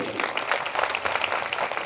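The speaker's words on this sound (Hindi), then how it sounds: "जोरदार ताली दे परमेश्वर की" A church congregation claps in praise of God, a dense, continuous patter of many hands that swells and dips slightly across the short stretch, moderately distant.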